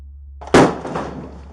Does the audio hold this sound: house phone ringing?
no